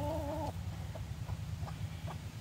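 Chickens cluck inside a chicken coop, a run of short close clucks in a loose rhythm after a brief higher call at the start, with no talking over them.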